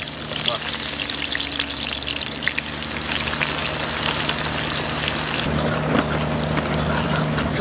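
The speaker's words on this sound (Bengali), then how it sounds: "আমরা পেঁয়াজের বেরেস্তা ভাজবো" Sliced onions frying in mustard oil in a wok for crisp fried onions, producing a continuous close hiss and sizzle with a low rumble underneath and faint background voices.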